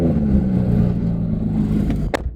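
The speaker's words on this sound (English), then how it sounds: "Guys, this car is so quiet now. I think my brakes are louder than the actual exhaust." A car engine with a quiet exhaust runs at a low, steady idle, close and even, ending in a short clatter and a brief high squeak.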